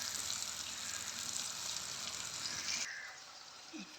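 Plantain (raw banana) slices fry in hot oil in a pan for a Tamil vazhakkai fry, giving a steady broadband sizzle that drops abruptly near the end to a quieter hiss with a brief clink.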